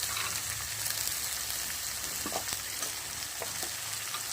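Potato, eggplant, pointed gourd and pumpkin fry in a pan with a loud, continuous hissing sizzle and occasional crackles and pops throughout, and no voices.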